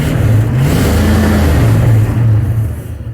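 A 1971 Mercury Comet V8 idling and revving close by, a steady low mechanical rumble with slight pitch rises, loud and alone for about three seconds before fading.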